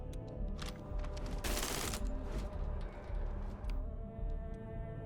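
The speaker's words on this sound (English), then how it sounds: "Oh, this is a laser weapon." A laser weapon fires in the sci-fi video game Starfield: a string of sharp zapping shots with a brief dense burst in the middle, moderately quiet against a humming background.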